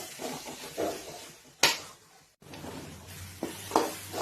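Tomatoes are sautéed in a pan for mushroom gravy, with a spoon stirring and clinking against the metal in short scrapes and taps, and a faint sizzle beneath.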